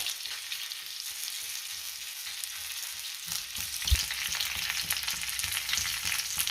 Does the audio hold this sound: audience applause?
no